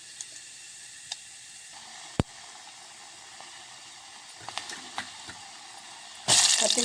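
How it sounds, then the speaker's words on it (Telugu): Mustard seeds, chilli seeds and urad dal fry in hot oil with a faint, steady sizzle and scattered pops, then a sudden loud hiss bursts in at the very end. "ఆవాలు, మిరపగింజలు ఇవి మంచిగా గాలాలి. దీంట్లోనే కొంచెం మినప్పప్పు వేసుకుందాం."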